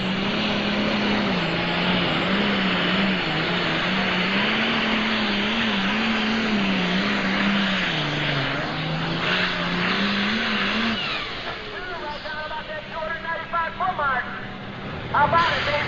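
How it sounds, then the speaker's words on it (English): A twin-stack International pulling tractor roars steadily at a truck and tractor pull, its engine note holding loud and rising slightly before dropping off near the end, with an announcer's voice over it. "Green light, green flag, twin stack coming to life."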